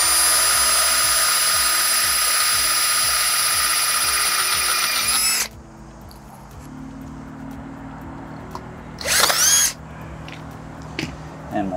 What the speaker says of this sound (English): we're pre-drilling here